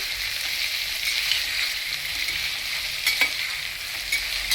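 Brinjal pieces fry in a little oil, giving a steady, close sizzle with a few soft stirring scrapes and no voices.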